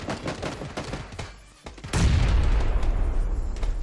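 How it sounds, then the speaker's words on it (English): A grenade explodes in PUBG: a heavy, sudden boom follows a brief lull, preceded by scattered gunfire and low voices, and the blast's roar sustains loudly to the end. "Grenade!"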